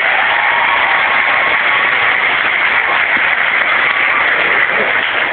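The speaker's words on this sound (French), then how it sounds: "Applaudissez le Mèche." Sustained applause from a hall audience at a gathering with Father Guy Gilbert, a dense, steady wash of many hands clapping at a loud, even level throughout.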